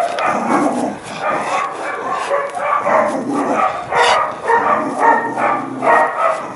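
Small dogs bark in repeated quick yaps and yips at close range, fairly loud, in a steady burst of overlapping barks with short gaps.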